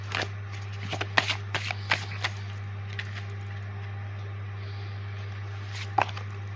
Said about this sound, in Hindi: अभी मैं मेजर अरकाना के कार्ड्स लेने वाली हूँ।